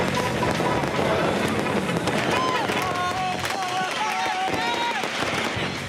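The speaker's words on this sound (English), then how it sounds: "Every kid above the age of 5 seems to have been issued a lighter and a fistful of fireworks." Fireworks and firecrackers set off by kids in a crowded public square crack and pop in rapid irregular bursts, with whistling rockets over a constant crowd roar and a voice talking over it.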